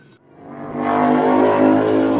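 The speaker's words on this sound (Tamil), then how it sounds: "என்னடி பைக்கு சத்தம் கேட்கணக்கா இருக்கு ஆமாக்கா நம்ம வீட்டு பக்கம் தான் வருது பைக்கு" A cartoon sound effect of a motorbike approaching rises from near silence into a loud, building engine roar that swells and holds.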